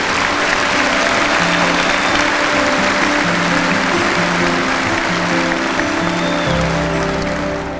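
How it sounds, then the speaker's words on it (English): A large commencement audience applauds its graduates at MSU's fall ceremony, a loud, dense, continuous roar of clapping that persists without a break, accompanied by a sustained musical tone beneath it and no speech. "Would you please give all of our graduates a round of applause?"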